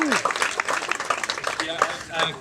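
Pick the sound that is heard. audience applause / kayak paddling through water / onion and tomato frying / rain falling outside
audience applause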